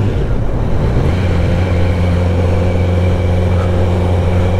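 A Kawasaki Z900 motorcycle with an Akrapovic exhaust idles and revs close by, a loud, steady low engine drone with a deep rumbling tone that holds evenly for the whole few seconds.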